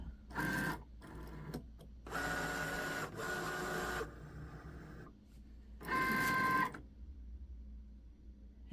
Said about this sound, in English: then we're going to upload this into our Cricut machine